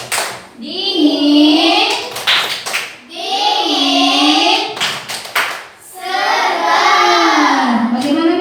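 A group of children chant a rhythmic clapping song in Indonesian in a classroom, with sung phrases broken up by bursts of quick clapping, loud and close.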